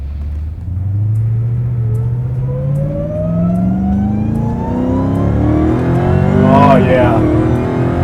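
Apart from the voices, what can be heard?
1000HP Dodge Hellcat engine accelerating and shifting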